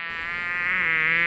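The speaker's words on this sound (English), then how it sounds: "I think it's a flying insect. A bee is what we found." A bee buzzes close by in a garden, one steady high droning hum that swells slightly over a second or so, with no talking.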